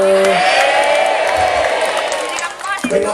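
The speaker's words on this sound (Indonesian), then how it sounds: "Kenapa tepuk tangan?" Lively audience applause and cheering at a comic religious gathering in Semarang, with clapping, whoops and shouting swelling then fading, and a speaking voice breaking in near the end.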